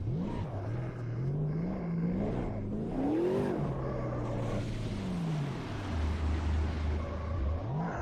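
A racing car engine revving in the Automobilista 2 sim, a steady loud drone whose pitch climbs and falls with throttle, rising sharply mid-way before settling into a low rumble.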